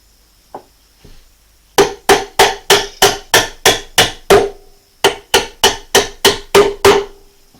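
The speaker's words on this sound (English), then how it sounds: "Don't want to wreck my square, putting a hammer on it" A hammer strikes a wooden cope-and-drag flask for metal casting in two quick runs of sharp, loud blows, about eight and then six in a steady rhythm, close and alone after a couple of light taps.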